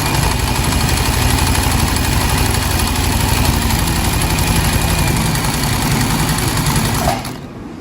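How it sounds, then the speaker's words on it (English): A household sewing machine runs steadily under pedal control, a loud, continuous close mechanical whir with rapid needle chatter for about seven seconds before it abruptly slows and stops. "We lower the needle and press the pedal."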